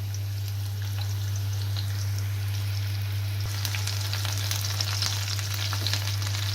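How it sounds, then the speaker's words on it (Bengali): Chopped onion fries in soybean oil in a wok with a steady, even sizzle that grows slightly brighter partway through, over a constant low electrical hum. "এখানে কেটে রাখা পেঁয়াজ কুচি দিয়ে দিচ্ছি ভাজার জন্য।"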